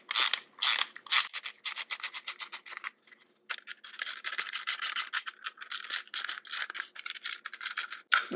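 Screwdriver backing screws out of a plastic cover on a 2012 BMW R1200 GS Adventure motorcycle, a close, steady run of quick ratcheting clicks and scratchy turns with a short pause partway through.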